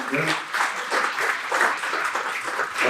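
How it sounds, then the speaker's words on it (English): Audience applause at an event at SFMOMA, the San Francisco art museum, a steady wash of clapping from a crowd, with voices mixed in throughout. "Give her a round of applause as well"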